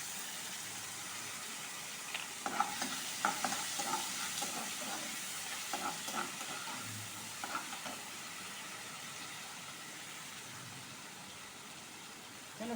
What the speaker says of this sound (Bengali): এই পেস্টটা আমি এখন কড়াইয়ে দিয়ে দিই।